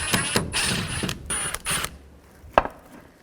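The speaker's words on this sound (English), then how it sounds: "Take this panel off, use a Phillips head screwdriver. There's 2 screws on this side" A Phillips head screwdriver works screws out of a panel on a 2011-15 Kia Sorento during a radiator replacement, giving scraping, ratcheting metal clicks in short bursts, then quieter gaps and one sharp click near the end.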